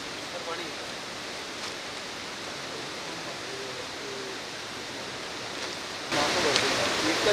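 Steady broadband rush of water flowing below the Girna dam at Jamda, loud and continuous throughout, swelling slightly near the end, with faint bird calls above it.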